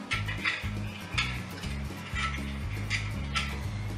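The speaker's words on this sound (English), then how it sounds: "And we're gonna mix it again." A spoon stirs a homemade lemon and lime cleaner mixture in a bowl, with repeated clinks and scraping against the container at an uneven, busy rhythm, close and fairly loud, no talk.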